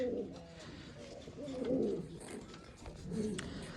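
A pigeon coos softly and close by, a few low rolling coos in slow succession against quiet background noise.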